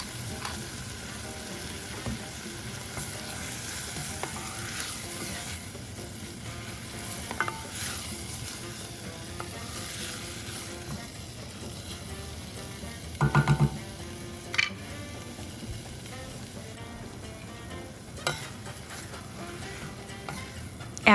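Lentils cooking on medium heat in a pan, a continuous soft sizzle with occasional stirring scrapes and a few sharper utensil knocks, heard alone without voices.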